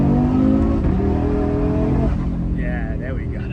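Inside a tuned Audi RS3 8Y, the engine drones loud and steady under hard acceleration, its pitch climbing and then dropping as a gear change cuts in partway through. People talk over the engine noise.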